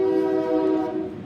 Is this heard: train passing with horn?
yes